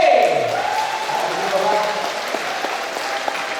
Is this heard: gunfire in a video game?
no